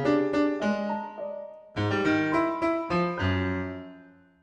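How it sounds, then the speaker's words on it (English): A composed melody played as a mirror inversion and dropped two octaves lower, heard as a sequence of sustained, layered notes in several phrases that fade out at the end, with no one talking. "I've done a mirror inversion and I've chucked it down 2 octaves"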